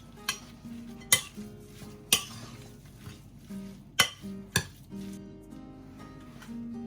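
Kebab ingredients with black pepper get mixed together in a tray, with soft stirring and scattered sharp clinks and knocks of utensils against the container, quiet and close with no talking.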